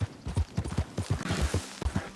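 Rapid, rhythmic hoofbeats of a horse galloping in the video game Red Dead Redemption 2, steady thudding clip-clop close by with no voices.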